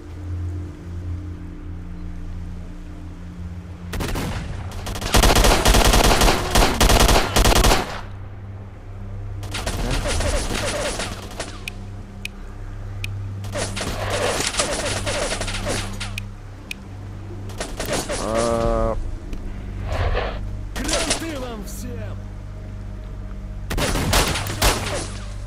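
Gunfire in Stalker: Shadow of Chernobyl on PS5: a long, loud sustained burst of automatic fire, then several shorter bursts and scattered single shots spread across the stretch, with low game ambience between them.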